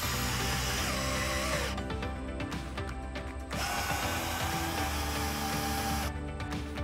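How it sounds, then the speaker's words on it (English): A power drill with a socket turns a turnbuckle on a concrete wall form, whirring and ratcheting steadily, with a metallic mechanical grinding that rises and pauses for a moment mid-way before continuing. "As I work the drill forward"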